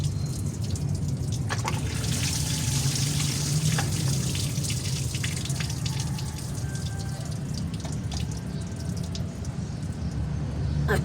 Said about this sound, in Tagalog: dito po dumadaan yung tubig na yun